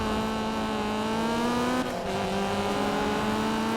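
A high-revving Honda Civic VTEC engine in the video game Need for Speed Payback screams steadily at full throttle, with a brief dip as it shifts gear before climbing again; no talking.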